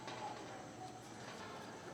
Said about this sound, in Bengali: এটা আমরা কি কবুতর দেখছি কফি কালার